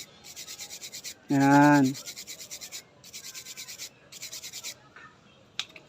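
Rhythmic rasping strokes of sandpaper scrubbing a copper contact, in short quick bursts with pauses, close up; a brief voice and hum interrupt once.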